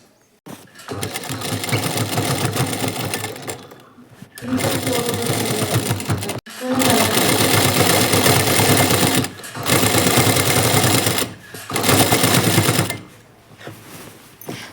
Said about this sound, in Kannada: ಸೊ ಉಲ್ಟಾ ಇಟ್ಕೊಂಡು ಸ್ಟಿಚ್ ಅನ್ನೋದನ್ನು ಮಾಡ್ಕೋಬೇಕು